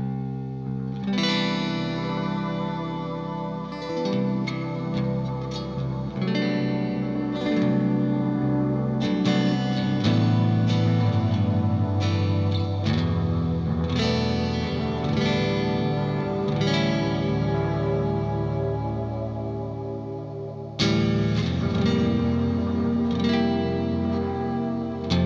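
Electric guitar runs through a Hungry Robot The Wash combo delay and reverb pedal feeding a Mr. Black Supermoon, giving lush, sustained ambient chords with long shimmering trails and chorus-like swirl, played alone without talk.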